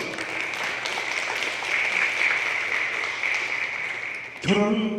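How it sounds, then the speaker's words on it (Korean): Audience applause at an AI conference session fills the room for about four and a half seconds as a steady, dense clatter, then a voice begins speaking as it fades. "박수 한번 보내주시죠"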